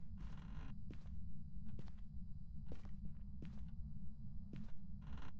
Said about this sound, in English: Just heard a footstep too.